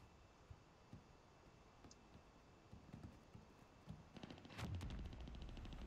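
Faint, distant gunfire in the battle royale game Cuisine Royale, scattered soft pops building into a louder burst of rapid shots near the end.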